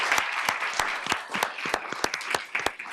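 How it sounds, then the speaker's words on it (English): Applause from an audience at a Tempe city council meeting, a modest group clapping with distinct individual claps standing out over a steady patter, fairly close and moderately loud. "So please make sure to give them a huge round of applause"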